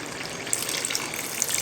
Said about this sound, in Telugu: దీంట్లో ఒక టీ గ్లాస్ వాటర్ వేసుకోవాలి.